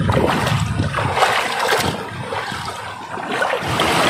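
Muddy floodwater from a creek rushes strongly past, shallow but fast, a loud churning splash and gurgle that surges and eases in uneven bursts, close by.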